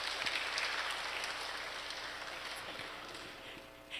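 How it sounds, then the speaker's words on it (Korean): A church audience claps steadily in a dense, even wash of applause that gradually tapers slightly toward the end. "처음 뵙지만 우리 박수로 좀 맞이해 주시겠어요?"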